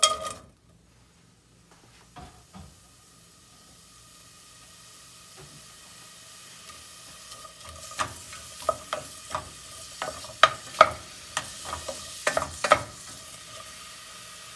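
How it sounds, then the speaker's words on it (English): Onions sautéing in a little oil in a pot on a stove, starting quiet and building into a steady sizzle with sharp scraping stirs and clinks that grow louder and more frequent toward the end. "we're gonna begin by sauteing our onions"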